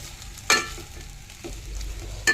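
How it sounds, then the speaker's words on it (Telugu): Noodles stirred in a pan give a soft, low sizzle, broken by two sharp utensil scrapes near the start and end. "నూడిల్స్ వేసుకొని బాగా కలుపుకోవాలి ఫ్రెండ్స్"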